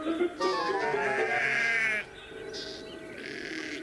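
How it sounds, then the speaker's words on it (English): A sheep bleats in a long wavering call, close and clear, followed by fainter shorter bleats over a quiet background. "There were sheep on the tracks."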